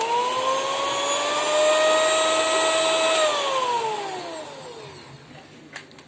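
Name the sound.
electric beater whipping cream, being slowed and switched off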